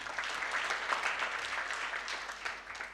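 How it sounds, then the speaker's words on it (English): Clapping from an audience in a hall at a customs and freight forwarding graduation ceremony, a sustained, moderately loud burst of many hands with no pause. "We shall clap for him again."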